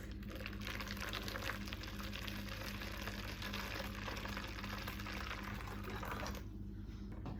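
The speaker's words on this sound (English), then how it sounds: "I've boiled some water, and I'm gonna pour it up to 400 milliliters" Boiled water being poured from a kettle onto vegetable stock in a measuring jug, a steady broadband watery rush that runs continuously for several seconds, close and fairly loud, then cuts off near the end.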